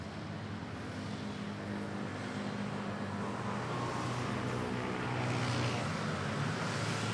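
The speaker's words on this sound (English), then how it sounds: "brand new Cebu Pacific A320 arriving from Toulouse" A brand new Cebu Pacific A320 on a delivery flight from Toulouse approaching to land at Manila Airport, a steady broad jet roar that swells slightly toward the end, heard from a distance with no talk.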